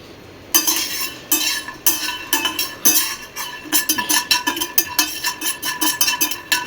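Peanuts roasting in a blackened pan are stirred, giving continuous close scraping and rattling with dense, uneven bursts that keep a steady pace after a brief quiet start; no one speaks.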